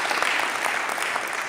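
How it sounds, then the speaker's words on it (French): Applause from the audience at a press conference, a brief continuous spatter of many hands clapping at moderate loudness with no talking over it. "Je voulais qu'on l'applaudisse"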